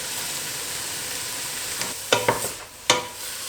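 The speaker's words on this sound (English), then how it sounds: "So in the onions, I'm going to add the 3 grated carrots" Three grated carrots drop into onions frying in a pan, so a steady close sizzle gives way to a few sharp bursts of crackling and stirring.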